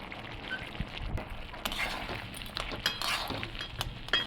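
Soybean chunks dropped into a hot cooking pan for a vegetarian curry, giving a clattering, sizzling burst of scattered taps and crackles that carries on at moderate loudness with no talk.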